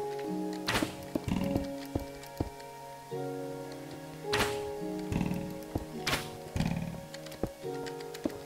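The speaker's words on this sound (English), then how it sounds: "That skeleton's got quite a good shot." A skeleton shoots arrows in Minecraft, giving sharp thunks and clicks in an irregular series at moderate to low volume, with small pauses between the hits.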